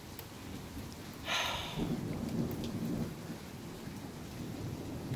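Nighttime thunderstorm with heavy rain and quarter-sized hail pelting surfaces, a steady dense patter under a sudden nearby thunder crack and rumble.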